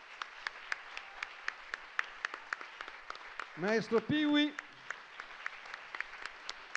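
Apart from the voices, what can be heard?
audience applause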